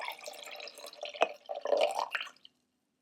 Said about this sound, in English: lift it up over to the other cup and pour the water in like this